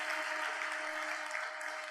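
Steady, dense applause from a crowd at a graduation ceremony, continuous and even throughout with no voices standing out.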